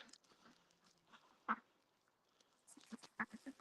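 Ducks on a farm quack softly at a distance, a scatter of short nasal calls over a murmuring background, growing a little busier toward the end.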